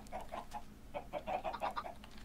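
Video game chickens cluck softly in short, irregular bursts, a few quiet chirpy clucks spaced across a couple of seconds with no talking.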